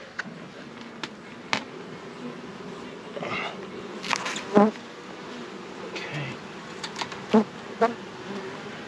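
Honey bees buzz steadily around an open hive, with a few louder insect passes close by and light taps and clicks in between.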